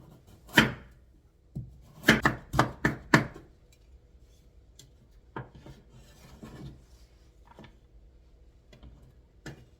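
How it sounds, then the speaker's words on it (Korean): A knife chops carrots on a board in a quick burst of four or five sharp, close strikes, followed by a few softer, scattered cuts amid quiet. "당근도 똑같이 썰어주시면 돼요."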